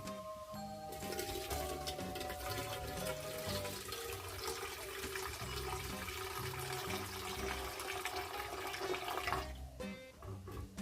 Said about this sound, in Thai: จะรินน้ำมันออกสักหน่อยนึง